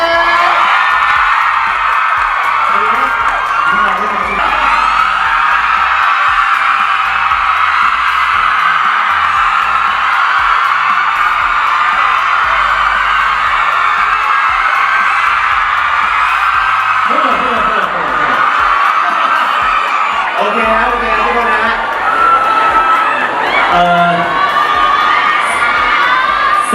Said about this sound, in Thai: ขอเสียงปรบมือด้วยนะครับ